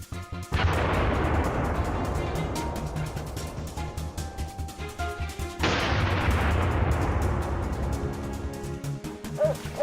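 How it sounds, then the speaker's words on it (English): A gunshot fired at wild boars in a forest during a night hunt, two loud booming reports each followed by a long rolling echo, with faint dog barking in the background. "A quick shot was fired, and just like that,"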